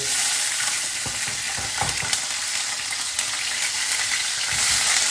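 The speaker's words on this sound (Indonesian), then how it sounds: "Digoreng semua ya, cabenya, tomatnya, terasinya." Chilies, tomatoes and shrimp paste fry together for sambal, a steady close sizzle with intermittent spatula scrapes and stirring knocks, no one talking.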